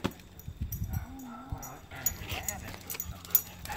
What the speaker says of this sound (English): The Airedale Terrier Australian Shepherd.